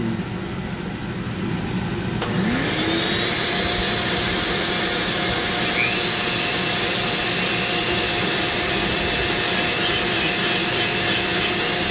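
A Dremel rotary tool carves hard padauk wood into a pumpkin shape, spinning up after a sharp click into a loud, steady high-pitched whine that holds without a break, close by and with no voices.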